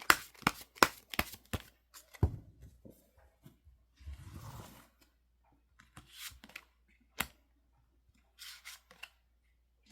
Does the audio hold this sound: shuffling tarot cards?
yes